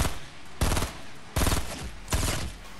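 Gunfire striking the player in a battle royale tournament video game, three loud close bursts of rapid shots, each lasting roughly half a second, spaced apart over a low background hum.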